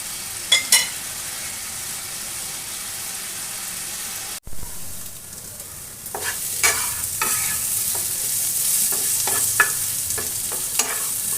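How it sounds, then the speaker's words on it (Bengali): Radish and shrimp fry in a pan, a steady close sizzle broken by repeated scraping stirs of a spatula, growing busier and louder in the second half. "একটু ভালো করে ভেজে নেব।"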